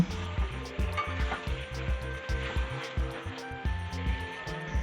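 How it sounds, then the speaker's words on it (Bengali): Mutton and potatoes are stirred in a sizzling pan, a low hiss under repeated rhythmic scraping and thudding strokes, fairly faint. "মাংসটাকে ভালো করে নাড়াচাড়া করে এর মধ্যে আলুগুলো দিয়ে দেব।"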